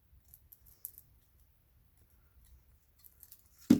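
Scissors trimming excess material off a handmade nutcracker's mouth piece, giving a few faint quiet snips and clicks spread through a near-silent stretch, then one louder sharp snip at the very end.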